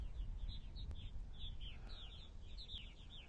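Purple martins give repeated chirping calls in evening flight past sunset over eastern Long Island, a steady scatter of short notes at moderate distance over a low rumble of wind or water.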